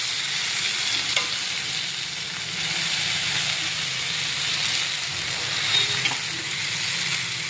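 Sankara fish frying in hot oil, giving a continuous, even sizzle and hiss that holds steady throughout at a close, moderate level, with a couple of faint clicks over it and no talking.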